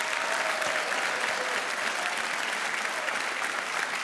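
An audience at a televised regional music talent final applauds a finalist, with dense, sustained clapping from a large crowd holding steady and loud from start to finish.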